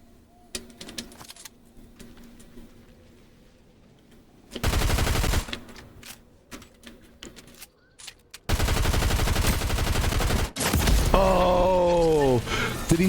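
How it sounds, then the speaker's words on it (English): Gunfire in a Fortnite solo match: scattered sharp cracks, then two long bursts of rapid automatic fire with a whining, warbling sound at the end, a quieter voice in the gaps. "Oh, they hit me with a snipe."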